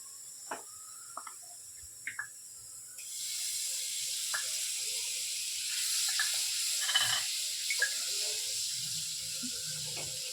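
Butter drops into a pan on a gas stove and begins sizzling: after a few faint taps, a steady hiss rises and holds, close and continuous, with small clicks of utensils over it.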